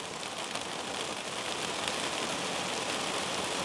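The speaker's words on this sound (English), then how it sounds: "Oh, listen, it's raining." Heavy rain drums steadily on a greenhouse roof, a dense, even hiss of countless drops close overhead with no pause throughout.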